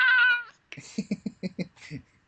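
A pet cat gives one short, clear meow, followed by a run of soft, rhythmic thumps and clicks close by.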